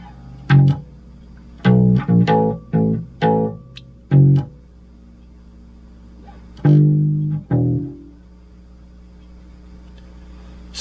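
Bass guitar plays a well-known riff solo, short plucked notes in clustered rhythmic bursts with pauses between phrases, close and clear with no talking.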